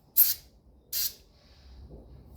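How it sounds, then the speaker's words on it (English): Two short sharp hisses of an aerosol spray into a blocked carburetor of a Cagiva 350AR motorcycle, each lasting a fraction of a second, followed by quiet. "So we'll give it a little spray."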